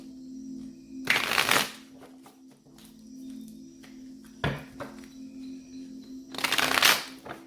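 Two bursts of a deck of tarot cards being riffled and shuffled, separated by a quiet stretch with a soft tap in between.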